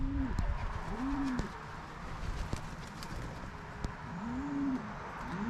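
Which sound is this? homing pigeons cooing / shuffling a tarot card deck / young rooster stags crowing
homing pigeons cooing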